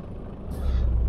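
A truck's parking brake released in Euro Truck Simulator 2, a short sharp air hiss rising out of low engine idle and holding loud to the end.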